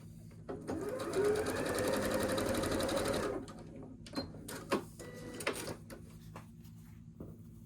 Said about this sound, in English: I'm going to sew down that side.